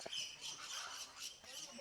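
Several parrots squawk in quick, shrill overlapping calls, faint and somewhat distant, forming a brief continuous chatter.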